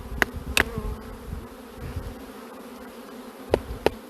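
Honeybees buzz steadily around an open hive in a low, busy drone close by, with a few sharp clicks and knocks scattered through.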